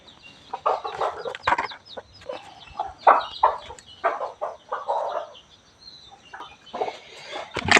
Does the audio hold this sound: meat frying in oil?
no